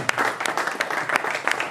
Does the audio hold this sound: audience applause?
yes